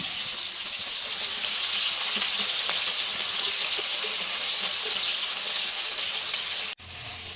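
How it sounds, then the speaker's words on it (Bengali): Fish frying in hot oil in a Bengali home kitchen, a loud steady hiss and crackle of sizzling that runs unbroken for several seconds and then cuts off abruptly. "এবার মাছটা ভাজা হচ্ছে"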